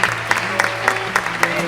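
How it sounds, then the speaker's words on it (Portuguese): Church congregation clapping together during a service, steady rhythmic applause with sharp regular beats from a large group, loud and close, with music in the background. "Você pode aplaudir o Senhor?"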